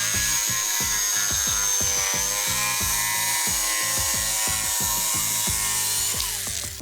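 A power saw cuts holes in plywood for a wood pellet cat litter box, giving a steady high whine over rapid rhythmic rasping strokes, loud and close, with no talking.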